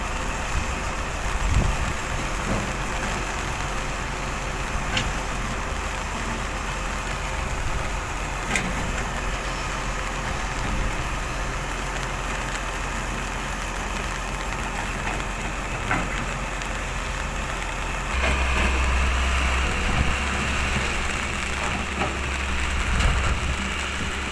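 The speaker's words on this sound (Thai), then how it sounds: "ฝนมาแรงแล้วครับ" Steady, dense hiss of heavy rain pouring down without a break, with a few sharper taps and a low rumble that grows louder near the end.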